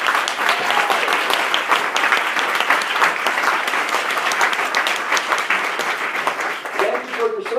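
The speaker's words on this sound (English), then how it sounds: "give you a round of applause" Town hall meeting audience applauding veterans, a thick, steady burst of close clapping that continues evenly before tapering slightly, with a voice speaking briefly at the end.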